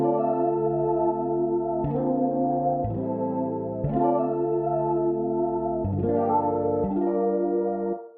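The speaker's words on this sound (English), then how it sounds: "So it gives us this nice trembling effect if you listen closely." A sustained synth chord from Native Instruments Maschine stock plugins changes every second or so, its tone wavering with a subtle LFO tremolo shimmer, played alone with no voices.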